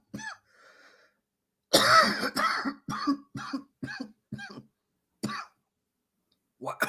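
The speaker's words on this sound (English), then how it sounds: "Why am I always coughing" Someone coughs repeatedly up close, a burst of several harsh, uneven coughs separated by short pauses, with a brief throat-clearing at the start.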